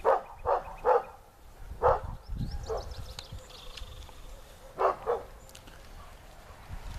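Several dogs barking on a farm in short bursts, a cluster of loud barks early, then a pause and two more barks near the end, with light outdoor background noise.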